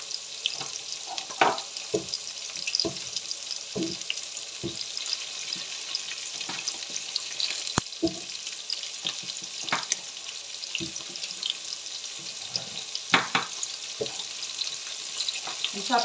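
Food sizzles and fries quietly in a pan, a faint steady crackle with scattered sharp pops and clinks of utensils.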